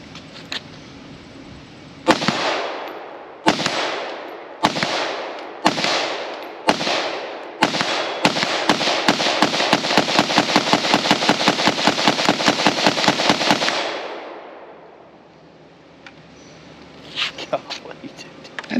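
A Steyr AUG bullpup rifle fitted with a long extended sniper barrel fires loud, sharp single shots in slow succession, then a long rapid burst before falling quiet, with brief talk in the background.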